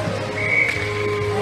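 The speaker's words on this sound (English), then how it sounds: "And the whistle." A referee's whistle at an outdoor ball hockey game gives one sustained shrill blast over steady background hum.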